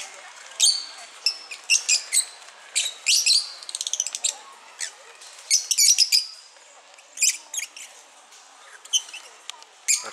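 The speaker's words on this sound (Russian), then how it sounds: "Розовощёкий неразлучник." Rosy-faced lovebirds at a zoo aviary chirp in quick, bright bursts of sharp high tweets, coming in clusters with short gaps, fairly close and without talk.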